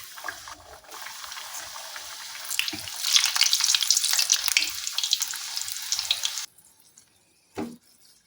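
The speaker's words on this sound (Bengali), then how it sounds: "তেলটা গরম হয়ে গেছে এখন এর মধ্যে লুচিগুলো একটা করে দিয়ে দিচ্ছি" Luchi frying one at a time in hot oil sets off a sizzle that grows louder and crackles for several seconds. It then stops abruptly, followed by near silence and a brief soft knock.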